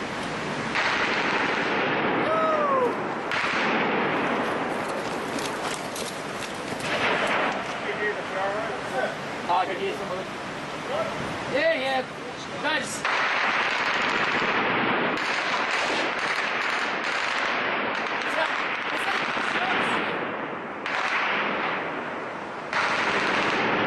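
Friendly artillery and machine-gun rounds during combat in Afghanistan, a long stretch of bursts and heavy reports echoing at varying distances, with soldiers' radio chatter and voices talking over the firing.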